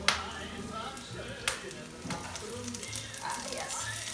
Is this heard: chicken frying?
yes